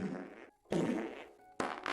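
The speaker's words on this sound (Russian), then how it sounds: "А также можно портить воздух путем пуков" Cartoonish fart noises from a mod in the cat game Stray, three loud close blasts of about half a second to a second each, separated by brief quiet gaps.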